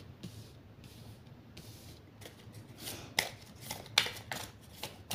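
Playing cards being shuffled by hand, several short papery riffling bursts, close and fairly quiet, with sharper snaps in the second half.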